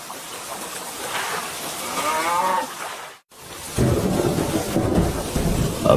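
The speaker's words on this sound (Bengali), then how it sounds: "রতনদার জমির সব ফসল যে বৃষ্টিতে একেবারে নষ্ট হয়ে গেছে।" Rain pours over crop fields in a broad, steady wash with thunder rumbling. A brief silent break comes midway, and the downpour returns heavier and lower.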